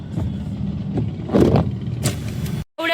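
Road traffic near Pune railway station in the rain, a close steady engine rumble with passing vehicles and a few whooshes, ending abruptly and then resuming with a brief horn-like tone, with no talk.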